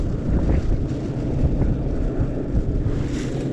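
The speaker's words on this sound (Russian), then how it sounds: "Ну, вот он, ветрище." Strong, gusty wind sweeps across a frozen lake during winter ice fishing, a continuous broadband roar buffeting the microphone without any voices.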